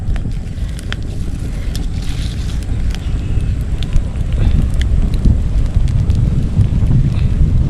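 Steady outdoor wind rushes and rumbles against the microphone without a break, loud and broadband from start to finish, with a few faint ticks and rustles scattered through it and no talk.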